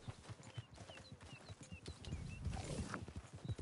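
Horse hooves clip-clop in a Red Dead video game, a steady walking rhythm of soft thuds up close under background game sounds, with a brief snort or whinny.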